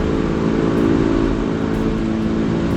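A loud motorcycle engine roars steadily close by, mixed with the drone of a Honda City car cruising at about 70 along the road.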